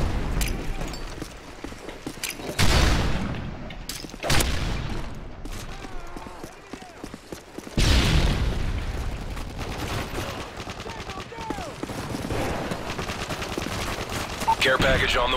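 Rapid bursts of gunfire and heavy booms from multiplayer Call of Duty: Modern Warfare 3, with louder sharp volleys at intervals over a steady din of in-game action and announcer-style voices.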